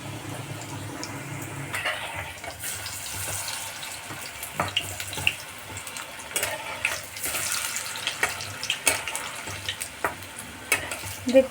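Cauliflower manchurian balls sizzle in hot oil, a steady dense hiss with scattered crackles and pops that grow sharper toward the end, heard close up without talk.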